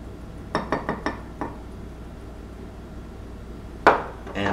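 Spoon mixing flour into chocolate chip cookie dough in a mug, a quick run of four or five sharp clinks against the mug, a pause, then a louder scrape-and-clink near the end, with no talk.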